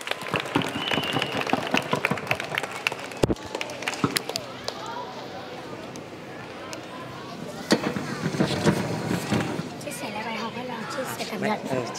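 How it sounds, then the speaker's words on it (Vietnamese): An audience applauds a student at a Heiwa summer learning event, a steady wash of clapping mixed with voices talking and calling out nearby. "Chúng ta cùng vỗ tay cho học viên Nguyễn Trung Quốc."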